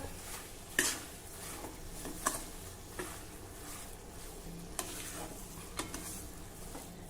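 Wheat flour sheera cooking in ghee with cashew and almond slivers is stirred in a pan, soft scraping and faint sizzle punctuated by several sharp spoon clinks against the pan at irregular intervals.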